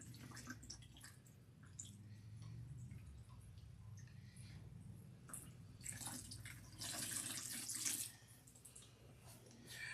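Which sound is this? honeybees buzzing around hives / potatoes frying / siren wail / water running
water running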